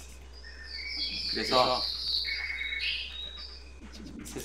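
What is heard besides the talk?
birds chirping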